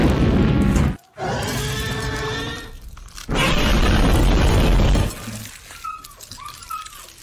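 Explosion sound effect with a loud rumbling blast and shattering debris, followed by a second heavy burst and fading rubble, close and dense.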